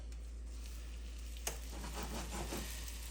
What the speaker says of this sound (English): We now want to sear them on both sides to get it nice and crispy.